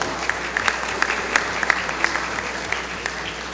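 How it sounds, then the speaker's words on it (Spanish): Loud, sustained applause fills a congressional chamber during a plenary session, dense clapping with a few sharper peaks, steady throughout and without talk over it. "Fuerte aplauso."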